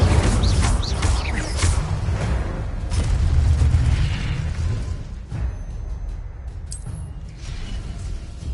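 Incendio fire spell cast in Hogwarts Legacy, a loud roaring burst of flame with deep booming rumble that slowly fades into crackling effects.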